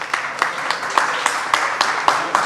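Scattered, evenly spaced claps from a small audience at a Lahore press gathering about electricity supply to a journalists' colony, a few sharp hand-claps repeating steadily without a voice.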